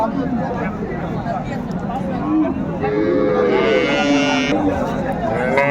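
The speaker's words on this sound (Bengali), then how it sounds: "এখানে চমৎকার একটি গাভি বাছুর" A Sahiwal cow with her calf moos at the busy Raniganj cattle market, low calls rising over a constant babble of many nearby voices.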